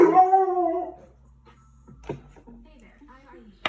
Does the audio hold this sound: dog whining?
yes